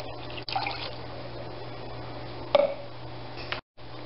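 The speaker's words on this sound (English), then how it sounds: "once the chocolate is fully melted, we're going to add 2 cups of water to this." Hot water poured into a pan of melted chocolate, a steady low liquid pour with a brief louder splash partway through, then a sudden stop near the end.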